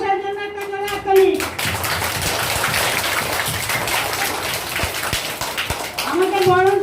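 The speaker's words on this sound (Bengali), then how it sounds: "মাস্টারমশাইয়ের জন্য একটা জোরে হাততালি।" Children at a primary school reading festival applaud their headmaster with a loud, sustained burst of hand-clapping that lasts several seconds, with a voice over a microphone just before and after it.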